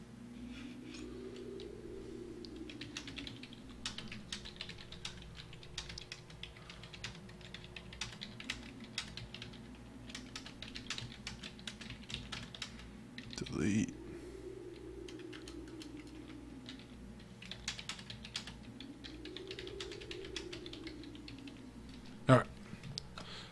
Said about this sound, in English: I was typing something for a guy in chat, guys